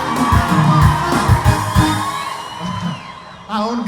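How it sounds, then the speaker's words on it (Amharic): Worshippers at a Hosanna church service let out loud shouts and high ululating trills of praise in several strong bursts, tapering off before a final sharp cry near the end. "ለኢየሱስ ጩኸት ያለው እልልታ ያለ ይገባል ሃሌሉያ"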